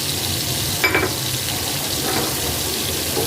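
Garlic fries with softened onions in a pan, a steady close sizzle with a brief louder crackle near the start and faint stirring, no talking.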